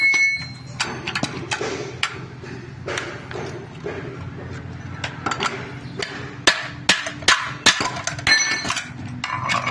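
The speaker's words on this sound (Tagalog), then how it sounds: "Saka niyo po pukpukin." Repeated hammer strikes knock out the huller shafting of a Shin Nong rice mill, sharp metallic blows landing in irregular bursts over a steady low machine hum.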